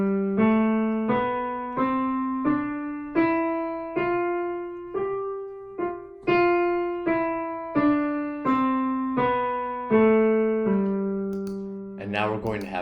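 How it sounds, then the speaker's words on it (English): A bright synthesized tone plays a single-octave Mixolydian scale, about fifteen evenly spaced notes rising then falling, alone and clear, with a brief noisy burst at the end. "This is Mixolydian."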